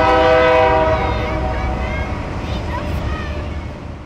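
A train rumbles close by with a long, loud horn blast at the start that fades over a few seconds, leaving a steady rolling rail noise underneath.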